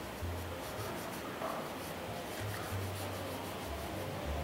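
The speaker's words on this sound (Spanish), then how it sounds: "tomar un poco de protector de madera, ¿sí? Y vamos directamente a poner en la madera" Steady soft rubbing as wood protector is brushed or wiped onto bare wood. A continuous scraping swish, close and moderately quiet, with no speech.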